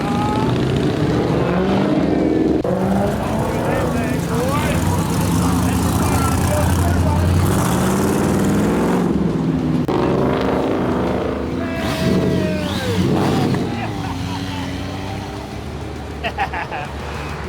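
A Dodge Challenger rolling past at a motorsports cruise night, its engine rumble rising and fading among crowd noise, loud and close, with people talking over it throughout.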